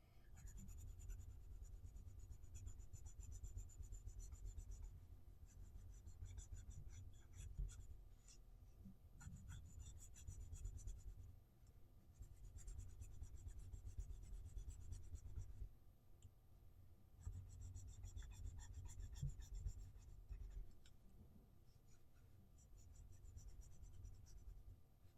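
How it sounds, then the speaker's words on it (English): A pencil shades on paper with firm pressure for the lip area of a portrait drawing, a continuous close scratchy rubbing in long strokes with brief pauses, no voices. "we're going to be pressing quite hard with the pencil"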